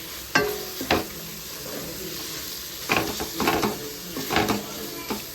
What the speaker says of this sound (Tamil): தக்காளி இன்னும் கொஞ்சம் நல்லாவே வதங்கட்டும்.